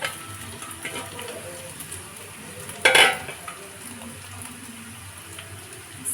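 Rice for onion fried rice is tipped into a pan and stirred, giving a soft scraping and rustling over a low sizzle, with one sharp, brighter burst about halfway through.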